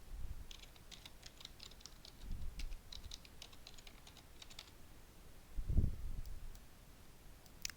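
Typing on a computer keyboard, quick faint bursts of key clicks near the start, then scattered taps, with a few soft thumps and low room noise and no talking.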